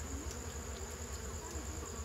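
Honey bees buzzing around their hive during an amateur honey harvest, a steady dense drone with a low hum running continuously and close by, no talk over it.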